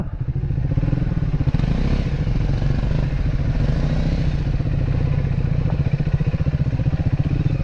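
A motorcycle rides a rough mountain road toward Ruby Valley, Nepal. Its engine drones loud and close, steady for the whole stretch, with clattering and thudding from the bumpy ride.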